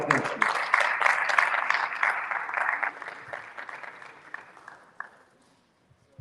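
An audience claps at the Global Power Platform Bootcamp in Lagos as a presenter takes the stage, loud dense applause at first that thins into scattered claps and fades to near silence.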